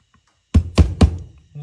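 Three sharp metallic knocks, evenly spaced and close, as a pin is hammered into a Weber 44IDF carburetor during a rebuild, followed by a short faint hum.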